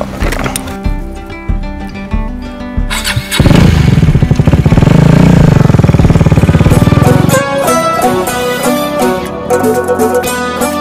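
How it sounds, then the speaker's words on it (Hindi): A motorcycle is ridden away in a loud burst that holds steady for a few seconds, with background music playing under it and no talk. "एक बार बाइक चला के देखूं मैं?"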